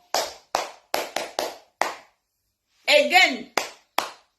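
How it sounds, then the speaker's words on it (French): A few people clap in short separate bursts, with brief claps and a pause before a livelier cluster, close and sparse rather than a full crowd, and a voice speaks between them. "Applaudissez pour Lolo."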